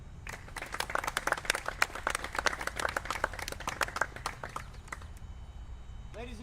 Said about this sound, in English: one more round of applause for Boeing.